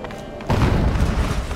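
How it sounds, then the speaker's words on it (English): A boom goes off in Horizon Zero Dawn: a sudden loud, broad thud that gives way to a sustained rumbling roar, heard over a quieter ambient game backdrop. "An explosion."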